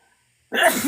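A single sharp sneeze bursts out suddenly after a moment of near silence, loud and close.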